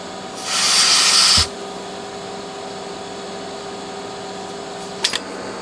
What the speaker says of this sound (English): I'm going to try some freezer spray on there.